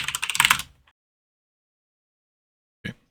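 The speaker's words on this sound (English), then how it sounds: "it is simply just typing this in terminal" Rapid close keystrokes on a computer keyboard while typing a terminal command, a quick flurry that stops, followed after silence by one last key press.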